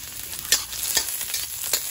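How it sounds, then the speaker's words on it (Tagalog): Garlic sizzles steadily in a little oil in a pan, a bright continuous frying hiss with a few soft stirring scrapes. "Maglagay na tayo ng oil. Konting oil lang talaga. Ayan. Tapos bawang lang."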